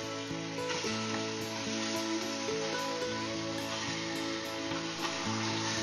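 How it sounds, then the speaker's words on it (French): Beef cubes sizzle steadily in hot oil in an Instant Pot, a dense, continuous crackle near at hand, with brief clinks from stirring and a faint background tone. "Je vais ajouter les cubes de bœuf."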